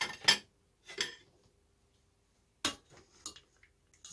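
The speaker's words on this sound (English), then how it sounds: "So now we can serve our soup." Moroccan harira soup with lamb and pulses is served with a few distinct clinks and scrapes of a ladle or spoon against a pot and bowl, separated by quiet pauses.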